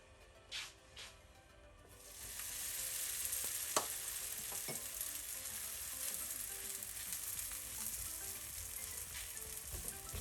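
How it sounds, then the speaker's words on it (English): A spring onion pancake hits hot oil in a pan and sets off a steady, close sizzle that holds for about eight seconds after a couple of light knocks at the start. No talking. "And I'm gonna put my pancake straight in the pan."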